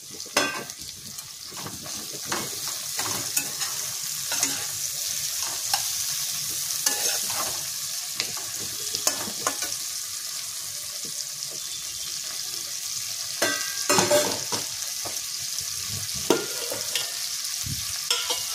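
Green chilies and tomatoes for ghugni fry in a pan with a continuous sizzle and repeated scraping stirs, close and steady, with no voices.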